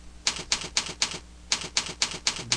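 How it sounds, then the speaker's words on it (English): Typing notes on a keyboard gives crisp, close keystrokes in two quick bursts of four or five taps each, with a short pause between them. "You can type any notes that you want."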